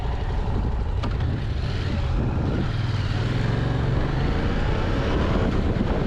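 Yamaha MT-07 motorcycle engine with a deep, steady growl while riding, loud and continuous throughout with low rumbling drone and no talk.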